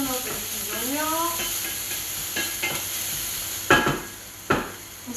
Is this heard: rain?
no